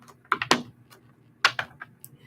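Tarot cards being shuffled by hand, two short bursts of crisp riffling flutters and taps about a second apart, close and fairly quiet, with no talking.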